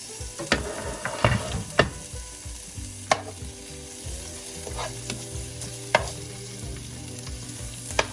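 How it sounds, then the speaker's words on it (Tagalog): Half a sweet onion fries in oil, a continuous sizzle with frequent sharp scraping and clacking stirs near at hand, no one talking. "here first I'm going to put the oil and then onions, half of sweet onions"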